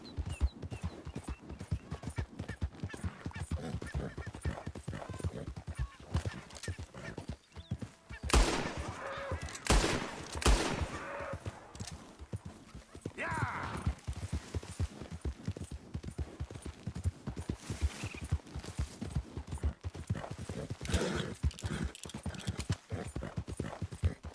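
Horse hooves clop and gallop in Red Dead Redemption, a steady rapid patter running throughout, joined by louder bursts of gunfire-like cracks and game effects midway.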